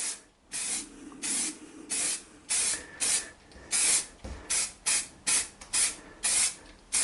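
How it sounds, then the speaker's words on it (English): An aerosol spray paint can hisses onto an airsoft rifle in a series of short, repeated bursts with brief pauses between them, close up and fairly loud. "Remember to keep a good distance from your spray can to the rifle."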